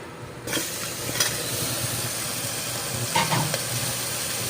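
Chicken pieces hitting a pan of fried ginger and garlic, a steady moderate sizzle starting abruptly after a short quiet moment, with a few soft clinks and stirring sounds.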